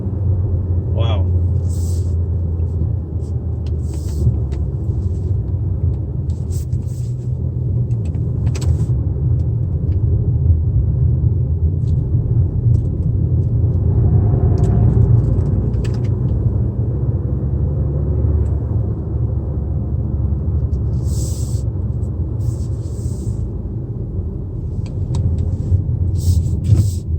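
A 2019 Mazda CX-5 rolls along the road at around 45 km/h, its steady low engine and tyre rumble continuous and close throughout, with occasional brief higher ticks and clicks over the drone.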